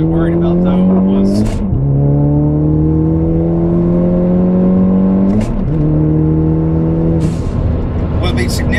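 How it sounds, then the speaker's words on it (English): A Ford Focus ST with a new turbo-back exhaust and intercooler drones steadily while cruising, a loud, continuous low engine hum with gear-shift breaks in the tone, close and inside the cabin. "it'd be significant drone from the new exhaust"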